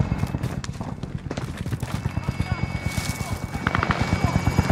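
A helicopter in a video game thumps with fast, steady rotor beats, loud and close throughout, while a person talks over it.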